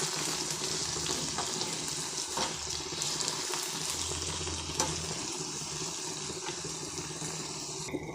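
Tomatoes and turmeric frying in a pan for a prawn and potato gravy, a loud, continuous close sizzle with faint stirring clinks throughout and no speech.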